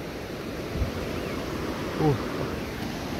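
Water runs over a stony village path, a steady rushing hiss that fills the whole scene, with a single brief vocal sound partway through.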